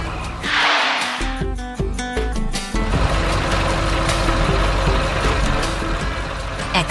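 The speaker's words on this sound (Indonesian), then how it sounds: "Truk hijau dan biru itu datang membawa beban berat." Heavy green and blue trucks arrive carrying loads at a construction site, their engines rumbling loudly and steadily after a brief burst of clattering and tonal machine sounds at the start.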